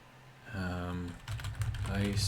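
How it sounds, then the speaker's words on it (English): Fingers tap out a rapid run of clicks on a computer keyboard while playing a survival game, the keystrokes heard under a person talking. "I'm on the wiki again, just typing in this stuff."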